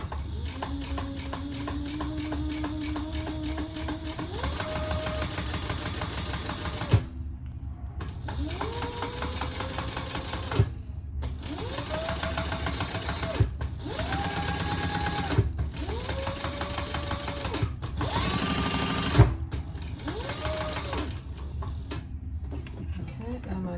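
A sewing machine top-stitches an eighth of an inch from the edge of a sling bag, running in about six steady bursts separated by short pauses, with occasional clicks between runs.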